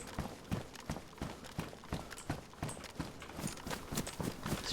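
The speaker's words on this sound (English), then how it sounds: "you hear footsteps? I think it's that zombie over there." Rhythmic footsteps of a zombie walking in the video game Arma, set in Takistan, a steady run of clopping steps close by with no talk.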